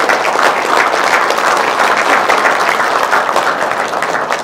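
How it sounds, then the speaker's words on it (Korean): Dense, steady applause from an audience at a press conference, many hands clapping at once in a continuous loud wash that holds evenly from start to finish, with no clear speech over it. "힘찬 박수 여러분 부탁드립니다."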